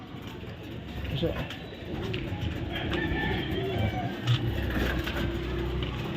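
Pigeons coo softly inside a coop, low murmuring calls under a voice speaking, with faint traffic noise in the background.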